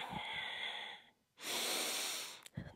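Close, loud breathing during a Pilates deep-ab exercise: a long exhale, a pause, then a strong forceful breath, with a short sniff at the end.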